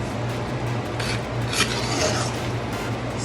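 Fish pelau, Trini style, is stirred in a pot with a soft, steady scraping and rubbing, the spoon dragging through the rice in a continuous low hum of kitchen noise.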